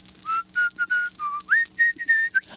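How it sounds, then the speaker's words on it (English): A henchman whistles the Australian song Waltzing Matilda in a video game, a clear close melodic whistle of about a dozen short notes over a quiet hum. "The security guard heard one of Carmen's local henchmen whistling Waltzing Matilda, a famous Australian song."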